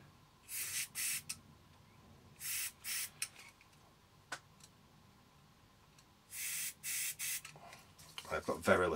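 Aerosol contact cleaner sprayed during repair of a Dansette Automix amplifier: several short hissing spray bursts of about half a second each, close and clear, with quiet handling noises between them.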